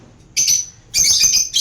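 Pet lovebirds chirp in loud, close bursts of shrill high calls, with two clusters separated by a brief quiet gap and no talking.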